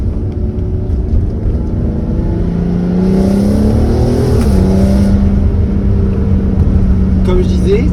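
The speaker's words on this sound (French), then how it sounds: "je vais vous faire un peu écouter le bruit du fameux V6" An Audi TT 3.2 V6 with the DSG gearbox and its intermediate silencer removed revs up from a steady idle in one rising sweep, then drops back and holds a loud, close drone.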